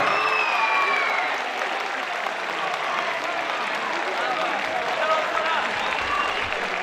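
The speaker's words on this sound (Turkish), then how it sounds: "alkışlayalım" Audience applause rolls through a hall at the final of a Kahramanmaraş quiz competition, a thick, continuous patter of many hands that holds steady and fairly loud, with faint voices mixed into the crowd.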